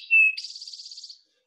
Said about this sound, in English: the Eastern Towhee is drink your tea